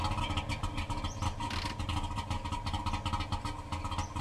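A car engine idling in the survival road-trip game The Long Drive, a steady close rumbling drone with a light mechanical clatter, running alone without a break.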